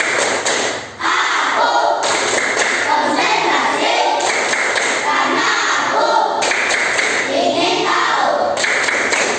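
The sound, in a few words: class rhythmic clapping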